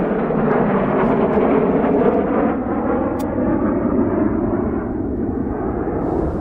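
Two Eurofighter Typhoon jets pass over an airfield, a loud sustained roar with a slowly shifting rumble, heard at a distance and holding steady throughout with no talking.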